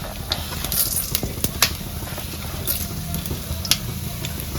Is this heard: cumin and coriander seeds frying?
yes